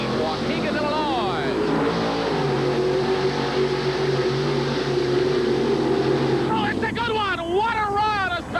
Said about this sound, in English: A spectacular race through the mud.